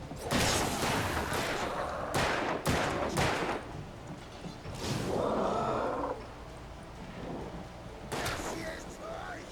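Gunfire in the video game Alan Wake, several loud booming shots and bursts separated by short gaps, with someone talking over the game sounds.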